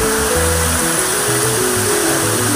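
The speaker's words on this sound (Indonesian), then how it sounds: "Nah, ini air terjunnya." Minanga waterfall in the Meratus mountains, a loud continuous roar of falling water, steady and close, with faint tonal sounds layered underneath.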